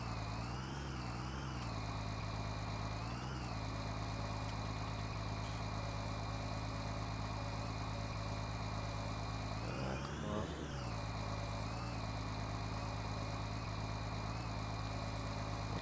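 A tractor engine idles in Farming Simulator 19 on the Xbox One, a steady, close, droning hum that holds evenly throughout with slight pitch shifts and a brief surge near the middle.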